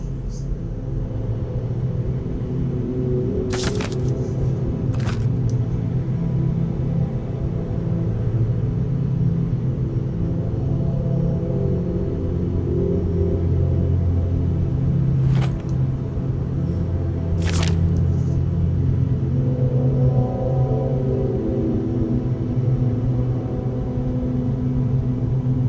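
A car engine rumbles steadily in a video game, a continuous low droning hum with a few sharp clicks and brief bursts scattered across it, heard at moderate loudness without speech.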